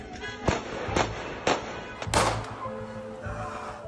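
Four gunshots ring out as a soldier shoots a man during an arrest, sharp cracks spaced roughly half a second apart over a noisy outdoor background, the last blending into a rumbling burst.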